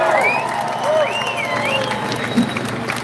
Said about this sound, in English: Let's have a big cheer for all the Palestinians who are here today.